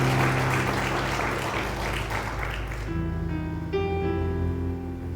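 A church congregation applauds in a dense wash of clapping over sustained keyboard chords; the clapping fades out after about three seconds while the music carries on.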